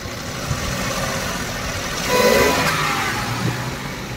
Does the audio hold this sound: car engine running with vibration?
yes